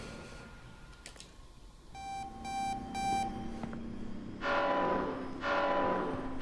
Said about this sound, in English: Stupid alarms.